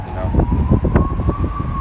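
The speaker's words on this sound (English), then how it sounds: "As well, a lot of ambulances too." A faint ambulance siren tone holds steadily in the distance while a person talks over it outdoors in wind.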